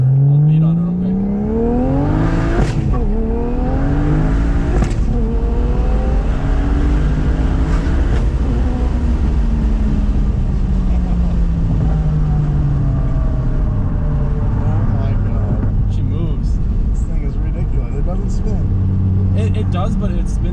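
A car accelerates hard with traction control off, engine revving up loud and close with quick no-lift upshifts, pitch climbing then dropping at each gear change while occupants talk over the roar.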